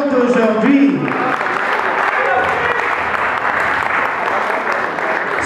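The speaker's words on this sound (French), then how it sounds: "je vous prie d'applaudir celle qui a dépassé 50 ans au jour d'aujourd'hui." Audience applause at a 50th birthday celebration in Montreux, a dense sustained clapping that starts loud under a brief voice and continues steadily.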